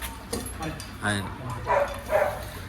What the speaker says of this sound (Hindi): उनको भी भूख लगी तो अंदर से ही भौंक रहे हैं